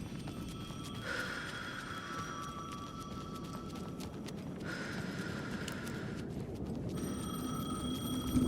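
A telephone in the video game Alan Wake 2 rings in repeated bursts with pauses between them, faint and distant over a rough, noisy ambient background.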